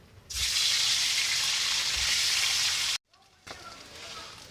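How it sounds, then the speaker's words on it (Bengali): Eggs drop into hot oil in a kitchen pan and fry with a loud, steady hiss that starts suddenly. The sizzle cuts out briefly and then returns at a softer level. "এবার ভেজে নেব ডিম।"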